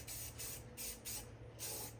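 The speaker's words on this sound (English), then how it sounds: "may start a little bit spraying just so you guys can see me start" Red spray paint hisses from a can onto an oversized craft Christmas mug in short bursts, four quick sprays separated by brief pauses, close and fairly quiet.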